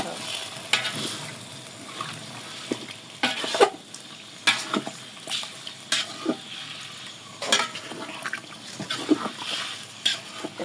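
Meat being stir-fried in a pot in a village kitchen, with repeated scraping stirs over a steady sizzle, close and moderately loud, and a few faint voices in the background.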